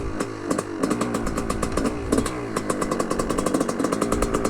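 A 2001 Gas Gas dirt bike engine runs rich, with a loud, close two-stroke idle whose rapid popping pulses and sharp revs come through without talking.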